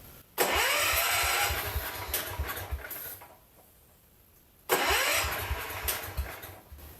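A John Deere 110 garden tractor engine, long left for scrap, cranks and catches twice, each time roaring up loudly then sputtering and fading, with a quiet gap between the two attempts.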